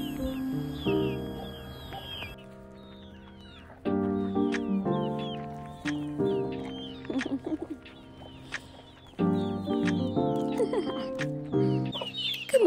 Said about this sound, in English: these little chicks are basically biting at my ankles